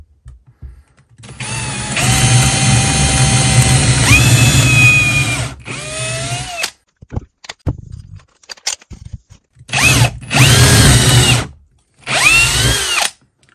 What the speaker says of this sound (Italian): Sul legno vanno benissimo, riesce a forare immediatamente senza nessun problema.